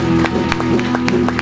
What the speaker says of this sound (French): nous voulons les accueillir avec nos acclamations